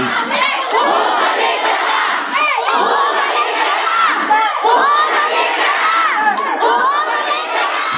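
Townspeople in a Manila neighborhood shout together in a loud, dense mass of voices, with raised cries and cheers overlapping continuously and close by.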